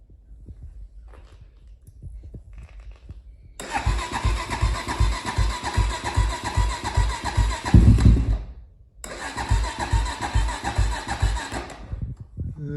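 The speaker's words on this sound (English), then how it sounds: "let's see if this thing will even fire up" A 2007 Honda 400EX ATV engine cranks and catches, running loud and close with a rapid, choppy idle for several seconds, cuts out briefly, then fires again and keeps idling unevenly.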